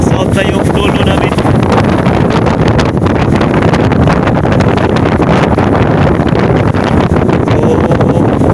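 Strong typhoon wind roars continuously and loudly, buffeting the microphone with dense, unbroken rumbling noise throughout.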